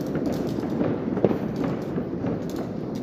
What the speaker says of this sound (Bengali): আতশবাজি চলছে।